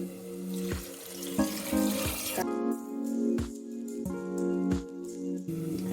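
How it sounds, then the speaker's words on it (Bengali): Water pours from a tap into a cooking pot, a loud, close, continuous splashing stream with a few knocks of the pot. "তো এখানে আমি এখন পরিমাণ মতো জল দিয়ে দেবো"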